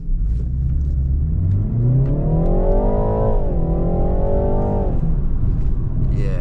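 A 2020 BMW 330i engine revs hard under acceleration, the pitch climbing steadily, dipping briefly, then rising again in a loud, continuous close-up drone with faint road noise.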